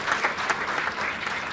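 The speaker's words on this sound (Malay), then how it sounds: "Jadi bagi tepukan gemuruh kepada negeri Perlis" Audience applause greets a speech at a club launch ceremony in Perlis, Malaysia: dense, steady clapping from a hall crowd, sustained and even for the whole short stretch with no voices over it.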